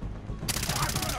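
Gunfire in the co-op shooter game Far Cry 3 breaks out suddenly as a dense, loud burst of rapid shots over ongoing game noise, with voices talking alongside.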